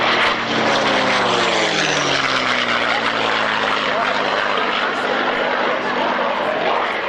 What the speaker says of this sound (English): P51D Mustang.